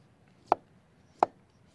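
A kitchen knife slices through a peeled pickle in two separate crisp chops about seven-tenths of a second apart, close and clean against a quiet background.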